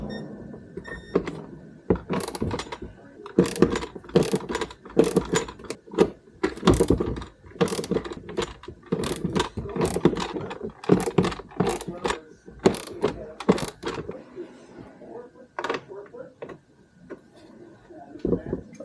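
A socket ratchet works on an abandoned 1978 Harley Low Rider, a long run of close, loud, fast clicking bursts repeated in strokes, with short pauses between, easing off toward the end.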